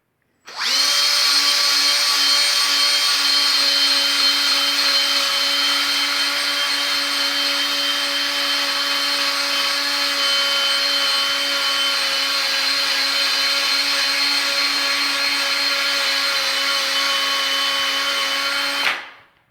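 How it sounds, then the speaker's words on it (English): Power drill with a polishing attachment buffing epoxy grout haze off tile, a steady high-pitched whine running continuously for nearly twenty seconds, loud and close, starting and stopping abruptly with no talk. "Use a power drill."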